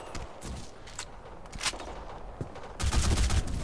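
AK12 assault rifle fire in the Black Squad shooter game, several sharp bursts of automatic gunfire scattered across the moment, ending in a louder sustained rattle.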